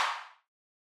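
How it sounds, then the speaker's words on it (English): A second self-made clap sample with its lows and low mids cut fires once, a sharp, transient-heavy bright snap that decays quickly to silence within half a second. "Here is another clap that I made."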